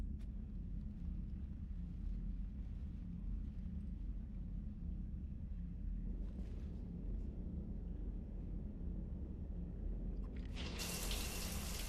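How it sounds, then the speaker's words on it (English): Shower water running steadily in the Mass Effect video game, a continuous hiss of falling water with a brief brighter splash burst near the end. "I figured you'd be more interested in a shower."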